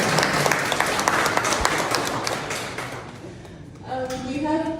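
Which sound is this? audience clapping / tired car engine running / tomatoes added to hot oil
audience clapping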